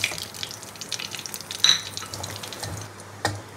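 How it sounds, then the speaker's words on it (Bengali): Dry red chillies and nigella seeds tempering in hot oil in a well-oiled wok, a faint steady crackle and sizzle with a couple of brief louder spits, no talking. "এই তেলের মধ্যে আমি দুটো শুকনো লঙ্কা, কালো জিরে ফোড়ন দেবো।"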